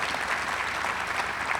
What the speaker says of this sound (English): Let's give our donors who made this possible a round of applause.